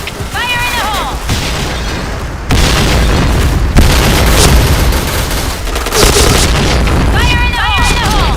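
A video-game grenade goes off with a sudden heavy boom partway through, amid a loud, dense wash of in-game battle noise, with voices and tonal game sounds layered over it.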